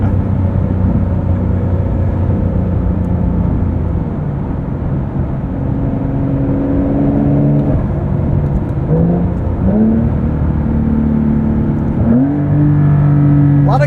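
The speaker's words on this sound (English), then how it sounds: "A lot of character too from this 3-liter twin-turbo boxer." A 2023 Porsche 911 Dakar with a 3-liter twin-turbo boxer engine, heard on the move as a steady, loud drone that climbs through several rising revs and gear changes, with no talking over it.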